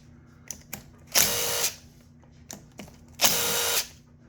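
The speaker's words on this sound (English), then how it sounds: "I just recommend removing bolts with an impact." Impact tool zipping out engine case bolts on a Suzuki DRZ125, two loud buzzing bursts of about half a second each, each preceded by small metallic clicks and taps, close up in a quiet workshop.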